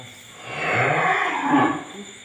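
Cattle at a farm in Cu Chi give one long, loud moo that swells and dips over about two seconds, close by and without talk.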